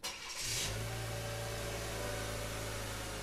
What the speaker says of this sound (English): And now we should be able to start the vehicle as normal.